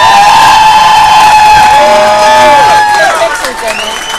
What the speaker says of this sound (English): Please help me welcome with a rousing round of applause.